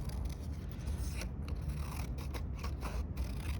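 Scissors snipping through green paper to cut out a butterfly body shape, a steady run of close, crisp cutting and scraping strokes with no talking.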